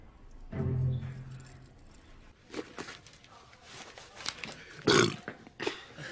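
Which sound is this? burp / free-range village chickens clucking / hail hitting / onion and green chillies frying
burp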